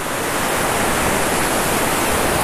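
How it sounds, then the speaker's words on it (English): Large waves break on the shore at North Berwick, Scotland, as the tide comes in, making a steady, loud, continuous roar of surf with no voices. "I want to try and catch some of these breaking waves"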